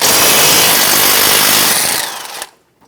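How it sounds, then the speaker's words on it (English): On a 2012-2020 Chevrolet Sonic, the pinch bolt nut on the front lower control arm ball joint comes off with a 16mm wrench and 15mm socket. A loud, steady power-tool whir runs for about two seconds, then cuts off. "Using a 16mm wrench and a 15mm socket, we're going to remove the nut off of the pinch bolt for the ball joint."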